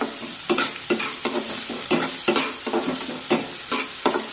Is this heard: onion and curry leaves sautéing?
yes